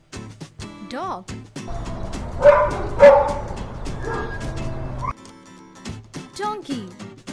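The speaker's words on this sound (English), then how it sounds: "dog," A dog barks and yips several times in quick bursts, with a stretch of broadband noise in the middle and more barks at the end, fairly close and loud.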